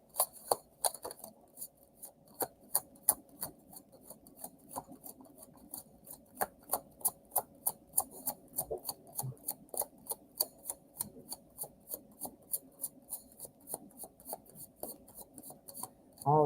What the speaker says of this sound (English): Messy shuffle.